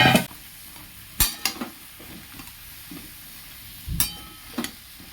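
Pieces of bitter gourd, green banana, eggplant and potato are tipped and stirred into hot spiced oil, giving a faint continuous sizzle broken by a few sharp utensil scrapes and clinks against the pan.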